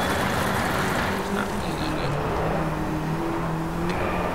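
A Mini racing in the Driveclub video game: a steady engine drone with a faint rising and falling pitch runs throughout, loud and continuous, with no clear separate bursts.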